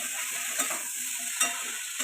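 Potatoes sizzle in hot oil in a pan, a steady close frying hiss with two brief scraping stirs of the spatula.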